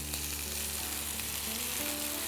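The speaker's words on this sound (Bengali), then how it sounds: "তাহলে এটা হয়ে যাবে ভালোভাবে ফ্রাই" Chicken for lime coconut chicken fries steadily in a pan over a low flame, a continuous even sizzle with faint hiss and no voices.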